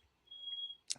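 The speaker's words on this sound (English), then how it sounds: "I'm just getting distracted by this freaking alarm" A single high electronic alarm beep sustained for about half a second, faint and alone, followed by a brief sharp click.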